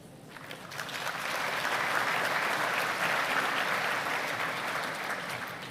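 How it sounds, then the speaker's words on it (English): A large audience at an African food systems forum breaks into applause, the clapping swelling quickly from a softer start into a broad, sustained roar of many hands that holds steady before easing slightly at the end. "I would like you to applaud for the theme you most appreciate."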